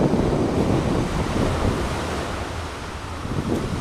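Choppy, murky sea surf at Kings Bay beach in Tobago after rainfall, a steady broadband wash of waves with wind rumble across the microphone, fairly loud and continuous with no talking.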